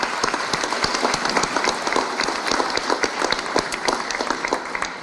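Audience applause for veterans at a veterans ceremony in Stratford, a dense, sustained clapping from a crowd, steady and fairly loud with scattered sharper claps standing out.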